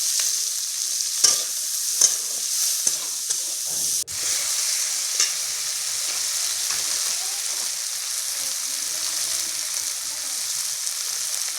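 Tomatoes fry in hot oil in a pan for a dried fish curry, giving a loud, steady sizzle with scraping stirring strokes and a sharp clank partway through, close and without voices.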